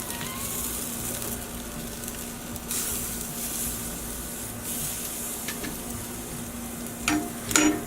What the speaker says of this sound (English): Alright, it's time to flip it.